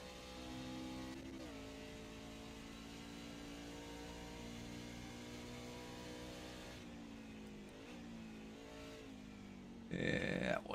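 A NASCAR truck engine in the iRacing game drones steadily with a high revving tone, and its pitch drops and climbs again as it shifts gears, with a sharper burst of noise at the end.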